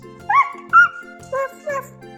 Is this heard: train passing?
no